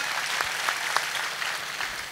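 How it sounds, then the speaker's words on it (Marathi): An audience claps for a speaker at a comic speech event, steady crowd applause for about two seconds with a few sharper individual claps standing out. "यांच्यासाठी पण एकदा जोरदार टाळ्या होऊ द्या"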